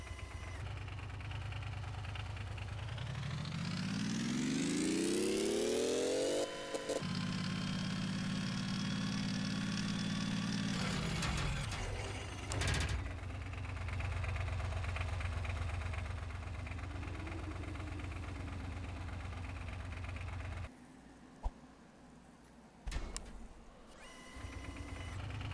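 A motorcycle engine in the Gearblocks building game revs up with a steeply rising pitch, drops to a steady idle, then shifts and settles into a lower, droning run before cutting out and briefly restarting.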